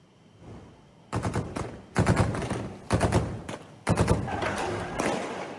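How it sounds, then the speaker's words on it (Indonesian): Bursts of rapid gunfire crackle in several clusters during street clashes outside the presidential palace in Aden, Yemen, at night, each a quick string of sharp shots, sounding somewhat distant and echoing. "terdengar suara tembakan"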